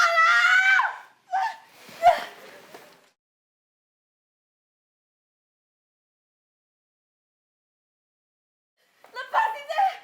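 A woman screams shrilly at the start, followed by short cries, then a long silence before more frantic shouting at the end.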